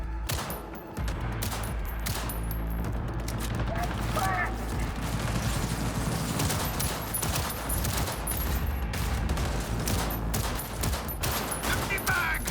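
Rapid gunfire from Cyberpunk 2077 combat, dense bursts of shots and heavy booms packed together at a loud, steady level, with shouted voices mixed in.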